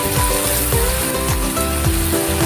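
Chopped onions hit hot oil in a pan while noodles are being cooked, giving a loud, steady sizzle with crackling bursts and scraping from stirring that runs without pause throughout.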